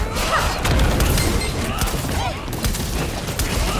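Rapid gunfire from the fantasy action game Lost Ark, dense bursts of shots and crashing impacts packed together, loud and continuous, with a voice talking faintly through the combat noise.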